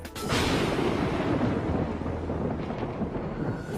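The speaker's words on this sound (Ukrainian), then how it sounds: "А на цьому відео блискавка вгатила прямісінько в багатоповерхівку в оболонському районі Києва." Thunder from a lightning strike on a high-rise apartment building in Kyiv's Obolon district, a sudden loud crack that becomes a heavy rumbling roar and slowly fades under steady noise.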